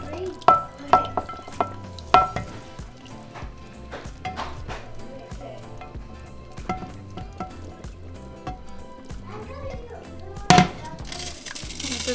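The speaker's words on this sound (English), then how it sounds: "So now we're just going to mix it around." A spoon stirs sauce into a pot of mole de olla, with soft scraping and wet sloshing sounds, a few sharp clinks against the pot early on and again later, and a low simmer underneath.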